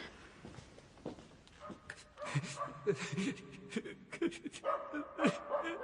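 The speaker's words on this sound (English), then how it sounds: "Shut up, you stupid dog!" A dog in a dark Welsh noir radio drama gives a string of short yips, barks and whimpers, close and fairly loud, in irregular bursts with a faint voice beneath.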